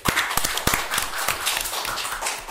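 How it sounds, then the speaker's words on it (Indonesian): A small group at a podcast recording of an agricultural quarantine office in Medan claps, sharp individual hand claps close by forming a brisk, uneven burst with no talk over it. "tepuk tangan dulu"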